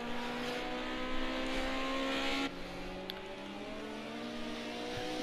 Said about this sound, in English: getting that power on, letting that car drift